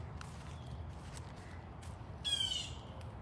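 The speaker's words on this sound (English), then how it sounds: "Oh, I hear my hawk." Hawk at an outdoor big cat sanctuary giving a short, sharp squawking call late on, heard against quiet outdoor ambience with faint rustling and a low background rumble.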